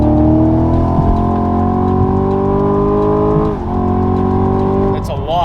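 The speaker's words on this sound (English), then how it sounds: "let me make sure that my oil temps are up and then we'll floor it and you'll hear how quiet it is" Car fitted with a Valvetronic Designs exhaust accelerating at full throttle, a loud steady engine drone climbing in pitch through the gears with a brief dip at a shift, continuous and close.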